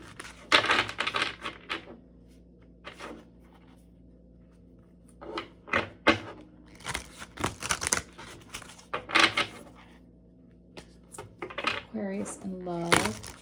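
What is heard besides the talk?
shuffling tarot cards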